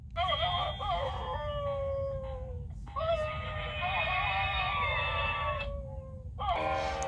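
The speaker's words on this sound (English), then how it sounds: "Was that the hideous howl of the undead?" Long, wavering wolf-like howls rise and fall, three drawn-out cries in succession, loud and close against a rumbling low background.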